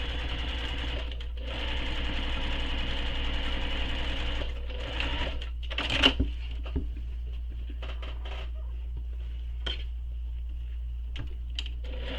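A sewing machine top stitches along the raw edges of a backpack, running steadily for about five seconds before breaking into short, scattered bursts and clicks, fairly close with no talking.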